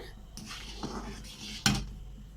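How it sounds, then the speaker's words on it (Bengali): Homemade tomato sauce is stirred in a pan, with a few faint scrapes and one sharper utensil clank against the pan near the end, quiet and without talk. "ভালো করে অনবরত এই পর্যায়ে নাড়ছি"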